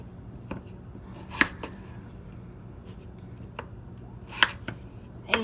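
Knife chopping potatoes into bite-size pieces on a cutting board in a home kitchen, with several sharp, irregular knocks of the blade striking the board, close and fairly loud against a low background.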